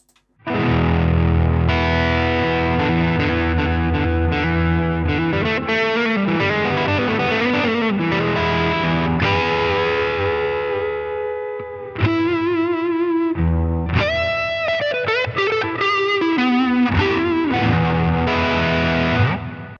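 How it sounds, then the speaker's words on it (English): Electric guitar played through a Line 6 Helix Timmy overdrive model with gain three-quarters up, giving crunchy driven chords and single-note phrases, with one short pause before playing resumes, loud and close with no talking. "We've got the MXR Timmy and the Line 6 Helix Timmy."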